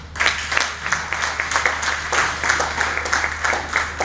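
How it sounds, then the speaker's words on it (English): An audience at a formal tribute dinner in honour of Colonel Bello Sani claps steadily and loudly in a dense, continuous round of applause. "Please keep clapping, it's very heavy."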